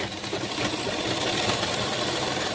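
A sewing machine stitches a petticoat with a fast, steady mechanical whirr and rattle, close and continuous without pause, with no talk.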